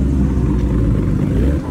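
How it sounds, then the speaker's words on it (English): A red Lamborghini Miura SV pulling away at a car show, its engine a loud, close, deep rumble that stays strong for a moment before dropping off sharply at the end. "Miura SV is leaving"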